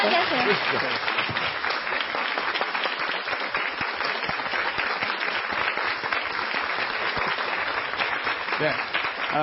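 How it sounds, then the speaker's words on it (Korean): An audience in a lecture hall applauds to welcome a lecturer onto the stage, steady crowd clapping running throughout, with a voice briefly heard over it. "박수로 맞이해주시기 바랍니다."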